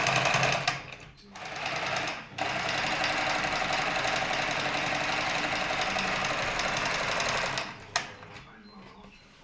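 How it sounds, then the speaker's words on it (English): A sewing machine runs a seam along a cloth pillowcase in a loud, close, steady whir, starting and stopping briefly at first, then holding for several seconds before halting with a couple of clicks. "Now sew the seam that goes around 3 sides of the pillowcase."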